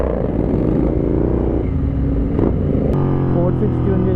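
Royal Enfield GT 650 motorcycles fitted with full-system exhausts rumble loudly and steadily nearby, with a brief rev swell partway through.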